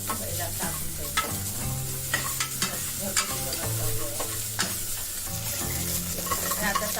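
Ginger garlic paste and spices frying in a pan for a Malvani-style Maharashtrian potato curry, with a steady close sizzle and repeated scraping stirs of a spoon over it, no voices.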